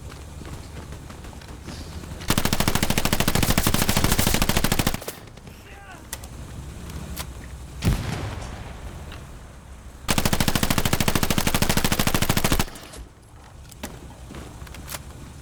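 Sustained machine-gun bursts ring out in the Hell Let Loose war game, two long, loud stretches of rapid automatic fire separated by quieter moments with single shots and footsteps.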